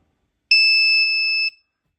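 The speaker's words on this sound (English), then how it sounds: "you're gonna hear it beep when it detects the metal here" A handheld JANEYHIM rechargeable metal detector wand gives one loud, steady electronic beep lasting about a second as it passes over a piece of metal, then cuts off.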